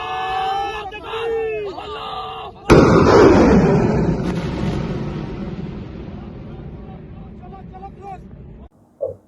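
Missile explosions in a military strike, with one loud, sudden blast followed by a long rumbling roar that fades slowly. Voices chant before it, and shouts are heard near the end.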